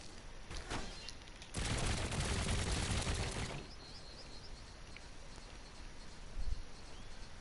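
Several guns on a built M50 Ontos vehicle in Trailmakers firing one after another on a short delay, a dense two-second burst of sharp cracks standing out over quieter ambient game noise, with a lone thump afterward.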